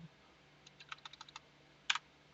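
Numbers typed on a computer keyboard, a quick run of about seven light, close key clicks followed after a short pause by a louder double tap like the enter key, in a quiet room.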